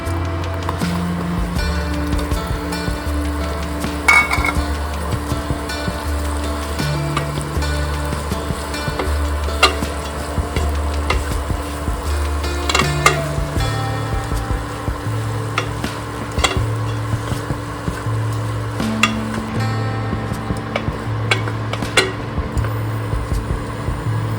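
Sprouted matki moth beans with garlic paste frying in a pan, a steady loud sizzle running throughout with repeated scraping stirs and occasional clacks of the spatula, no voices.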